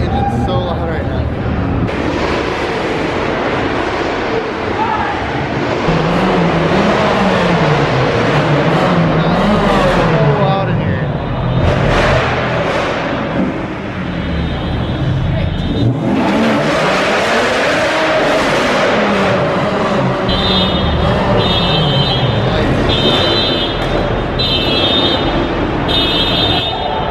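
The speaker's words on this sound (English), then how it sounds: "everyone's revving their engines so loud right now" Several cars at a rooftop car meet in LA rev their engines hard and loudly, overlapping exhaust roars rising and falling throughout, with people talking underneath.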